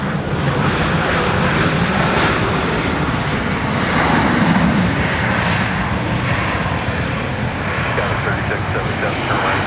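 A fixed-wing airliner at Minneapolis–Saint Paul airport roars loudly and steadily on landing or touch-and-go, a broad engine rumble filling the whole stretch while radio voices talk over it.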